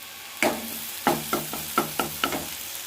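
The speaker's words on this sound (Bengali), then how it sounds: "দেখতে পাচ্ছি শাক ভাজা হয়ে গেছে।" Leafy greens sizzle in a pan while a utensil scrapes and stirs in a rhythm of about six sharp strokes, each followed by a brief hiss.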